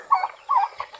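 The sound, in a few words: turkeys gobbling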